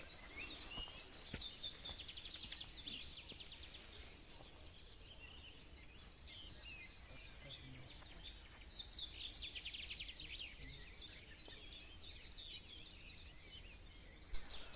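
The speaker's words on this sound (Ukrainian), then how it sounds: "Пташечки співають, природа просто прекрасна." Birds chirping and singing by the Southern Bug River near Vinnytsia on a spring fishing outing, a faint, continuous chorus of high tweets spread through a quiet outdoor scene with no talking.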